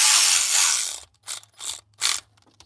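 Snap-on ratchet seating head gasket bolts on a Jeep engine: a long continuous ratcheting burst followed by three short clicking bursts, close and loud, with no talk.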